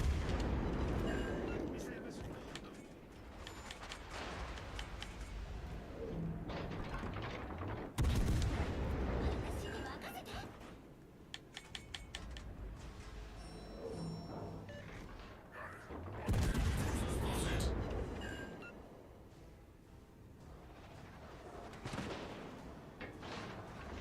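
Heavy naval artillery from warships in World of Warships: Legends booms out in several deep, loud blasts spaced across a rumbling battle backdrop, with someone talking over it.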